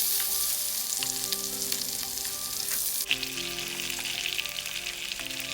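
Chicken pieces frying in hot oil, a dense, steady sizzle and crackle close up with a few faint stirring knocks, unbroken and without speech.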